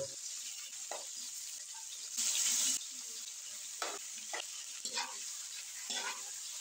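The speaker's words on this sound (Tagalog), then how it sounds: "painitin muna natin ang kawali. Maglagay na rin tayo ng butter. At bawang syempre. At ilagay na natin ang hipon." Shrimp fry with butter and garlic in a hot pan, a continuous close sizzle broken by stirring scrapes and one brief louder hiss burst, with no talking.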